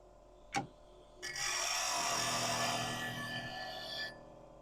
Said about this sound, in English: I could use a smaller spindle gouge, my 1/2 inch, instead of this 5/8